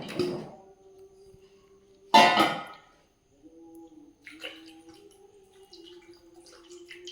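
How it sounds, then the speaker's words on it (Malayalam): Water splashes into a cooking pot of yam in two short pours, the second louder, followed by quieter trickling and faint dripping with a low hum underneath. "കുറച്ച് വെള്ളം ഒഴിക്കുക."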